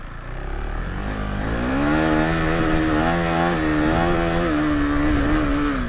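A KTM 390 Enduro R dual-sport motorcycle riding on sand gives off a steady, loud, close engine drone whose pitch swells and dips gently as the throttle changes, with no voices.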